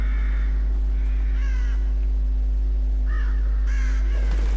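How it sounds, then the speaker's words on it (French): A crow caws repeatedly in The Evil Within, harsh rasping calls spaced out over a constant low hum from the game's ambience, fairly loud and close. "un corbeau."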